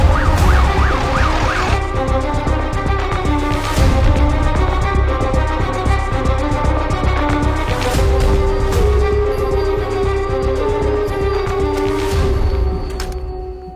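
An ambulance siren wails in a Telugu suspense action-drama film scene, rising and falling at the start and then blending into dense, loud background music and traffic noise.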